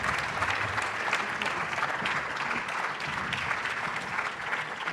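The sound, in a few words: audience applause for speakers coming on stage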